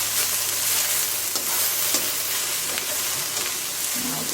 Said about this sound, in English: Stir fry, and after that put slices of ginger.